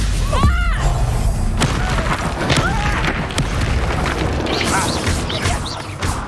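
In a Hogwarts Legacy battle, a Stupefy spell is cast amid loud, continuous combat noise, with booming impacts, crashing bursts and bright magical zips overlapping throughout.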